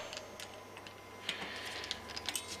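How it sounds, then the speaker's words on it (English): A torque wrench gives a few faint, sharp clicks as Shimano disc brake bolts on a mountain bike reach about 5 newton metres, set against a quiet background. "So that clicking noise you can hear, that's when we get the bolt done up to a certain tightness."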